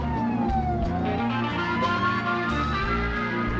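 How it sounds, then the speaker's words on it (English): Police sirens wail in a visual novel video game, a rising and falling electronic tone sweeping continuously over a low background, moderately loud and sustained throughout. "accompanied by the wail of sirens."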